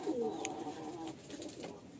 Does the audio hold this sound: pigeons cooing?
yes